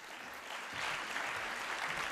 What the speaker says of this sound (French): Merci beaucoup de l'applaudir.